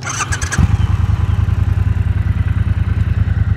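A 2019 Triumph Bobber Black motorcycle engine fires up and settles into a steady, deep, throbbing idle through its twin exhausts, with rapid regular pulses, loud and close.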